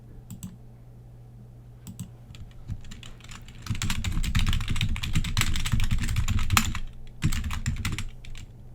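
Computer keyboard typing close up: scattered key clicks at first, then a dense, busy run of keystrokes in the middle, easing back to sparse taps, with no talking.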